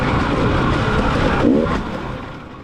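A 2019 KTM XCW dirt bike fitted with aftermarket 6500 forks revs hard during a hare scramble race, its loud engine droning steadily close by with a slight rise and dip in pitch.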